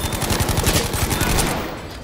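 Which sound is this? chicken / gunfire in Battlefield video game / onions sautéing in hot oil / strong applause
gunfire in Battlefield video game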